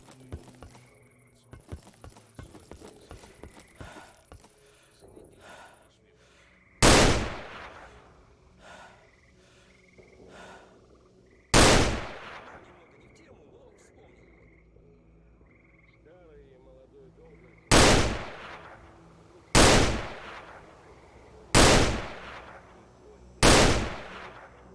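Gunshots in the video game Anomaly: six loud, sharp single shots spaced a few seconds apart, each with a short decaying tail, over faint game ambience and scattered small noises, with no talking.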